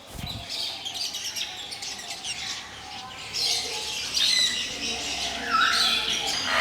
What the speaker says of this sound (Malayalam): അപ്പോൾ എല്ലാ കിളിയും വന്നിട്ടുണ്ട്